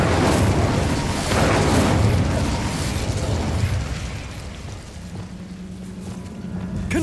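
Incendio fire spell cast in a Harry Potter video game: a loud whooshing roar of flame bursts up, then fades into a lower rumble and a steady hum.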